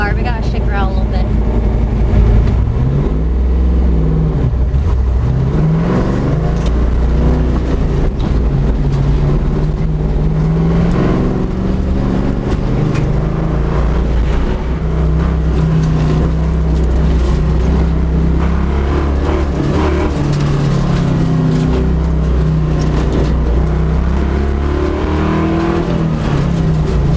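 An SN95 Ford Mustang race car's engine runs loud and close throughout, a deep continuous rumble with rising and falling revs and shifting tones.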